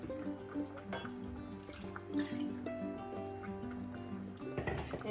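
Thin coconut grinding water poured into a simmering Kasaragod-style chicken curry, a soft, faint trickle of liquid running steadily for several seconds.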